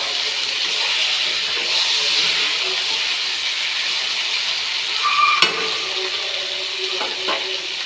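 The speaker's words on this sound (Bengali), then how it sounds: "আমি এটাকে খুব হালকা আঁচে আস্তে আস্তে করে ভালোভাবে কষে নেব।" Chicken fried slowly with spices over low heat gives a steady, moderate sizzle and hiss at close range, with a brief utensil clink near the end.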